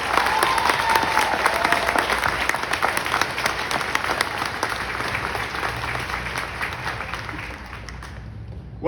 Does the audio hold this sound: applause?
yes